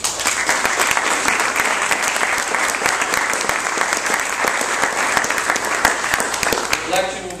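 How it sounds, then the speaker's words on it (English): Steady applause from an audience at a town candidates' forum in Dewey Beach, honoring four election candidates; dense, even clapping fills the whole stretch at full level without letting up, with a faint murmur of voices beneath. "give them a round of applause."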